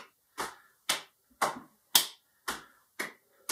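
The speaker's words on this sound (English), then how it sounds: "Tap and clap to the left and the right." Hands tap and clap in a steady, evenly spaced rhythm during a seated exercise routine, seven crisp sharp claps about half a second apart, close and clear with no talk.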